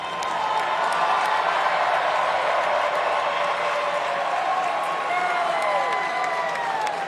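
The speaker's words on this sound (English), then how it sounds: "Give them a round of applause." A large arena audience at the 2019 NFL Draft applauds and cheers local high school students, giving a loud, dense and sustained wash of clapping and crowd noise with scattered whistles throughout.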